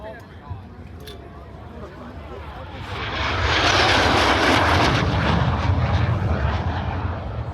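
A MiG-17 jet fighter flown by Randy W. Ball at the EAA AirVenture airshow: a distant engine roar swells from about three seconds and holds loud and broad, with an announcer's voice over a public address system.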